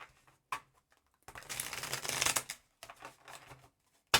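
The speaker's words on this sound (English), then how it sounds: "These cards are so hard to shuffle" Stiff new oracle cards being shuffled by hand, giving a few short riffling bursts and one longer crisp flurry of papery flicks with brief pauses between, close and fairly loud.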